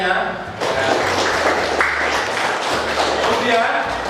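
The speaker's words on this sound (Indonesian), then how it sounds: "Beri tepuk tangan untuk semuanya" Students in a classroom applaud together, a dense and fairly loud wash of clapping that starts abruptly and holds steady for several seconds.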